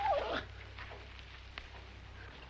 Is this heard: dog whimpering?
yes